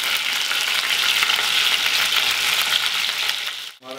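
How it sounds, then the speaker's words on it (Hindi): Chicken deep frying in hot oil in a kadhai for Mughlai chicken, a loud, dense, steady sizzle that holds for several seconds and then drops off abruptly near the end. "गोल्डन फ्राई हो चुका है मुगलई चिकन के लिए"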